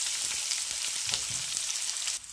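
Onions and green chillies hit hot oil seasoned with cumin, bursting into a loud dense sizzle with a few stirring knocks, steady and close before dropping off slightly at the end.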